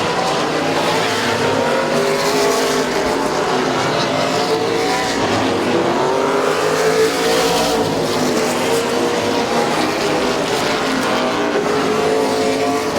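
Race cars battling for the lead at Midvale Speedway, a loud, continuous roar of several engines with rising and falling revs as they lap the track together.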